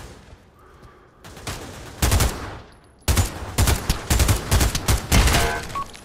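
Gunfire in the VR shooter Pavlov on PS5 VR2: loud bursts of rapid automatic fire, with a short pause, then sustained volleys and overlapping shots through most of the clip.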